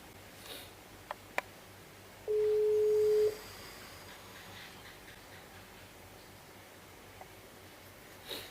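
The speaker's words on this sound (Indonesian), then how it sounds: "Aku coba telepon Mbak Vivi deh." A single steady telephone tone sounds for about a second while a call is placed, clear against faint room rustle and a few soft clicks.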